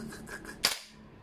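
A single sharp shot from a G&G MGCR 556 airsoft gas blowback rifle cracks out close and loud, with a brief tail after it, over a low background hum.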